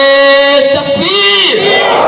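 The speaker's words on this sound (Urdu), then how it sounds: "آواز بلند دونوں ہاتھ کو بلند کر کے نعرے کا جواب دیں" A large crowd at a religious gathering loudly chants a slogan in unison in reply to a leader's call, voices swelling in long sustained shouts.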